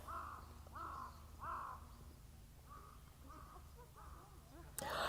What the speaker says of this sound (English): there's the sound of a few birds